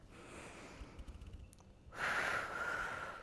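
Someone doing an ab workout at home breathes in a series of soft short puffs, then lets out one strong, breathy exhale.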